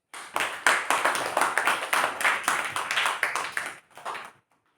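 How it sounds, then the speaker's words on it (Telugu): A classroom of fifth-grade pupils at a village primary school claps together: a dense run of sharp hand claps that carries steadily for about four seconds, then thins out and stops. "Very good. క్లాప్స్."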